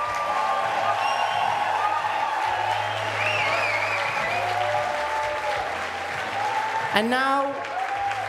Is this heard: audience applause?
yes